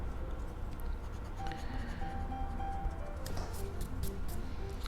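A pencil drawing leaf shapes on paper, soft scratchy strokes that come in short, uneven runs, quiet and close, with no voices.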